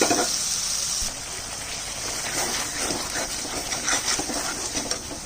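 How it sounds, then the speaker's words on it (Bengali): Running tap water gushes and splashes steadily while a spice bowl is rinsed in a home kitchen. The flow is close and continuous, with faint clinks of the bowl under the water. "মশলার বাটিটা একটু ধুয়ে দিলাম।"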